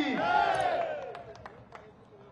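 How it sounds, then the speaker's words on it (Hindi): A crowd at a political rally in Shahdol, Madhya Pradesh, lets out a loud unison cheer that swells at once and then fades over about two seconds into scattered noise. "पूरे लोग जोरदार तालियां बजाकर स्वागत करिए"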